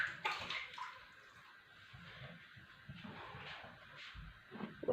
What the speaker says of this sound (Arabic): لازم نغسل يديا